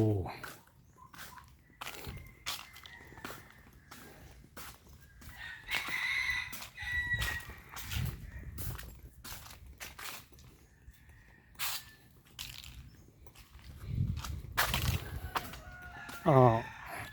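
Peacocks and pheasants call at a temple in Nong Bua Lamphu, with intermittent cries and clucks scattered through the scene. Someone talks over them, and a sharper call stands out near the end.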